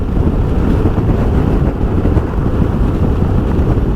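Wind blasts a rider on a 2021 Honda X-ADV cruising the highway, a loud, continuous low buffeting roar with no voices.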